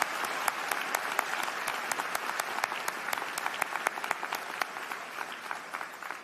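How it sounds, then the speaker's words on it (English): Audience applause at a University of Alberta spring convocation ceremony, a steady wash of many hands clapping in a large hall with sharp individual claps standing out, sustained at moderate level. "I think this moment merits a round of applause"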